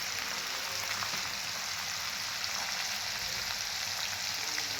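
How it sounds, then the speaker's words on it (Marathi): Ginger garlic paste sautéing in hot oil makes a continuous even hiss of frying, steady and fairly loud up close, with no voices. "अद्रक लसूण पेस्ट चांगली परतून घ्यायची"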